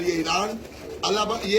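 Pigeons coo and flutter close by while someone talks over them, the birds' soft calls mixing with his voice throughout.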